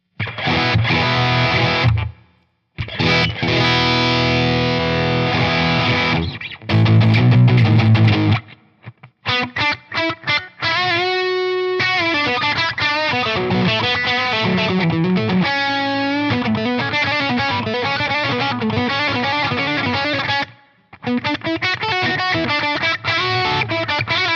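Heavily distorted electric guitar on its highest gain setting, tight low end, playing chugging riffs and sustained chords, saturated and loud, with brief pauses between phrases.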